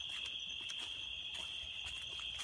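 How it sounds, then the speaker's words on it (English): Crickets chirp outdoors in the woods as a constant high, thin trill, steady and fairly faint throughout. "Oh, look at that cricket."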